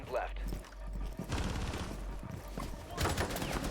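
Rapid bursts of gunfire from a Rainbow Six Siege match on the Villa map crackle in the final seconds of a round, dense and continuous beneath a commentator's excited voice.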